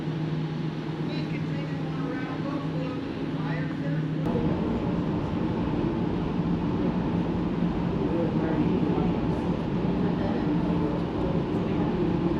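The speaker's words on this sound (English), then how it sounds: "there's the tram coming down" A heavy mechanical rumble rolls past, the Sandia Peak aerial tramway car gliding down along cables in New Mexico, under a steady crowd murmur with people chatting nearby.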